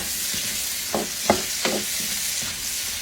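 Zucchini, mushroom and onion sautéing in olive oil and butter in a pan, a steady close sizzle with a few soft stirring scrapes and knocks from a utensil, and no talking.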